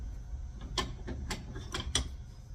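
A torque wrench tightens the connecting rod bolts on a Chevrolet Camaro 3.6 engine, giving a handful of sharp, close metallic clicks spaced unevenly across a couple of seconds over a low background hum.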